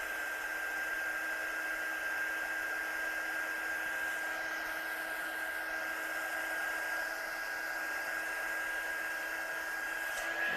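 Heat gun blasting steadily on an acrylic block stamp to dry the paint, a constant close whooshing hum that runs unbroken the whole time, with no talking.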